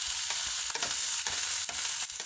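Chopped onion, green chili and finely cut garlic sizzle in hot oil for okra tiffin, with a steady close frying hiss and a few sharp stirring scrapes.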